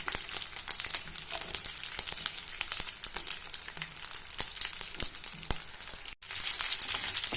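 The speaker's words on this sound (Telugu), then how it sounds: "వేసుకున్నాక పోపు బాగా వేగిన తర్వాత" A tempering of urad dal, cumin, curry leaves and dry red chillies crackles in hot oil, a continuous dense sizzle with sharp pops, steady and close.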